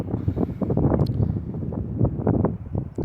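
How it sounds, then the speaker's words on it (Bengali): Strong, cold wind blows outdoors, a steady, loud buffeting rush across the microphone with gusts swelling and easing throughout. "বাতাসটা মোটামুটি ভালো জোরে বইতেছে।"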